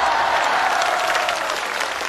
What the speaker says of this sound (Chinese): 尖叫加鼓掌